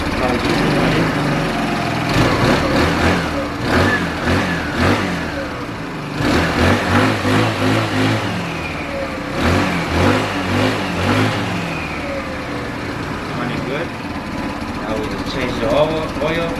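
A 150cc moped engine runs steadily with a rough, buzzing idle and repeated revs rising and falling, close and loud, with people talking over it throughout.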